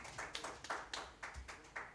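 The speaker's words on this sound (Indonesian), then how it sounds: "tepuk tangan dulu teman-teman semuanya" Quiet applause from an audience at a school quiz competition, a small group clapping in brief, slightly uneven bursts at a steady rhythm, with no other sounds.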